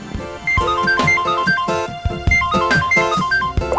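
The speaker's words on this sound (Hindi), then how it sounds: "किसका फोन है?" A phone rings with a melodic electronic ringtone, a bright repeating tune playing loud and close over a steady rhythmic beat, with no talk heard during the ringing.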